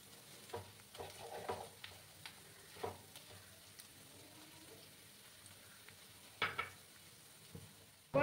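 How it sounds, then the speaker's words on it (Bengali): Masala being sautéed with whipped curd (sour yogurt) in a pan for a vegetarian paneer curry: quiet sizzling with scattered scraping and stirring strokes from a spoon, a few louder clinks near the end. "ভালো করে আমি কষিয়ে নিচ্ছি।"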